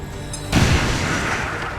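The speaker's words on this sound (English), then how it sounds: "we're going to use this grenade to blow up the cover" A grenade explosion in XCOM 2 destroys a piece of cover, a sudden loud boom at about half a second that leaves a long rumbling, crackling debris tail.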